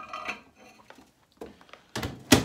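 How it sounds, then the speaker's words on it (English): A plate of cheese-topped crumpets with Marmite is set down with ceramic clinks and clatters as it goes into an 800-watt microwave. A couple of sharp knocks close the sequence, heard close and alone without speech. "put the plate of crumpets into the microwave."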